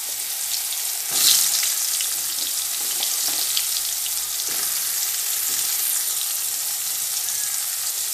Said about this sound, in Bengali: তেল গরম হয়ে গেছে ভালোই, এবার বেগুনগুলো আমি দিয়ে দিচ্ছি।